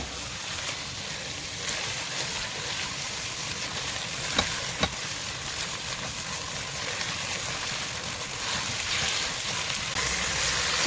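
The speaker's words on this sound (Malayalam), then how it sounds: "മീഡിയം ഫ്ലെയിമിൽ വെച്ച് കുറച്ച് നേരം ഒന്ന് തുറന്ന് വെച്ച് നമുക്കൊന്ന് ഇളക്കി കൊടുക്കട്ടെ" Chicken fries in masala for kanthari biriyani, stirred in an open pan over a medium flame. A steady, close sizzle carries on throughout with a few faint stirring knocks and no talk.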